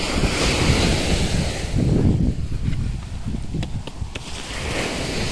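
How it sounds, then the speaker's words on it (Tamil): Big ocean waves crash and roar onto the beach at Gopalpur, Odisha, at night: a loud, continuous wash of surf with repeated surges, buffeted by wind noise on the microphone. "பாருங்க என்ன ஒரு சவுண்ட். எவ்வளோ பெரிய அலை, எவ்வளோ தூரத்துக்கு."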